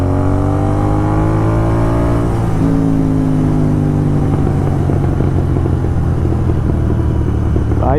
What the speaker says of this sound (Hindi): भाई पटाखे तो एक नंबर मारती है अपनी जीटी